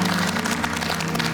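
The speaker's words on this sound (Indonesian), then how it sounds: "Tepuk tangan untuk Fahri" Short burst of dense audience applause at an Indonesian Quran-memorization competition show, loud and steady from start to end.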